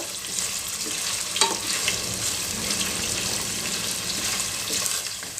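Fenugreek leaves fry in a pan for a paneer gravy with a constant, fairly loud crackling sizzle. A few soft stirring scrapes sit over the hiss.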